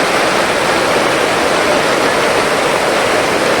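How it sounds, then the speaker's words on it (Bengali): Heavy rain roaring down without pause, a thick, loud, even wash of noise close at hand. "প্রচুর বৃষ্টি পড়ছে"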